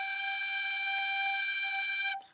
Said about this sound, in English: So here's G.